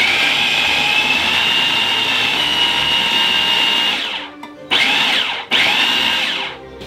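Food processor blending salmon and cream for a salmon terrine, a loud steady motor whir that stops briefly twice, with short pulses.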